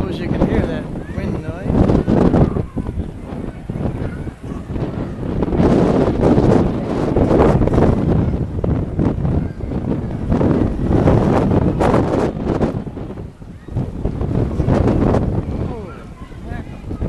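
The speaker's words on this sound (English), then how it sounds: "Suppose you can hear that wind" Strong gusts of wind buffet the microphone continuously on a boat at sea, roaring and fluttering with changing intensity, with water and boat noise underneath.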